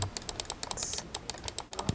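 Rapid clicking on a computer keyboard during a doctor's patient consultation, light irregular keystrokes tapping away steadily and close by with no voices.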